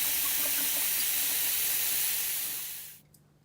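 Running tap water splashes steadily over fish being washed after a lime-water soak for Jamaican-style fried fish, a continuous close hiss that cuts off abruptly near the end.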